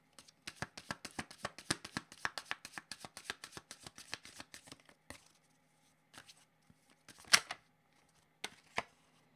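Tarot cards riffled and shuffled by hand, a long quick run of crisp papery flicks, then a few slower isolated taps and snaps, close and fairly quiet with no talk.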